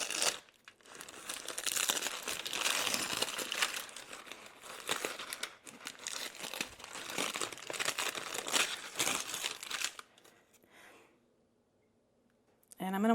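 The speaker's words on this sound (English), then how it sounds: "See if we can get it off the paper." Freeze-dried food being peeled away from parchment paper it had stuck to, giving a busy, close crinkling and light tearing rustle for about ten seconds before falling quiet.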